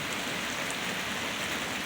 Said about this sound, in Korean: 비가 오니까 봐요 이제.